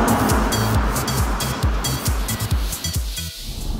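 A Mercedes-Benz SL400 engine on a road test gives a deep, throbbing drone with rapid rhythmic low pulses over a wash of road and wind noise, easing off near the end.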